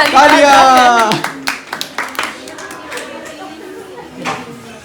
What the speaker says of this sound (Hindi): एक बार जोरदार तालियों से इनका स्वागत करिए सब लोग।